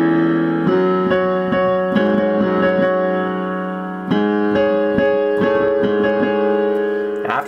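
Piano playing the song's pattern, a steady repeating right-hand figure over a moving bass line in the lower register, clear and close with sustained chords and no talking.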